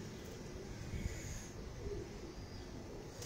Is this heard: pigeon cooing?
yes